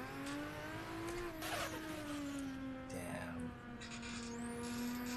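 An RB26DETT-swapped Nissan Silvia S14 in a racing video game, engine holding a steady high whine with faint shifts in pitch, brief turbo whooshes and tire noise, fairly quiet throughout.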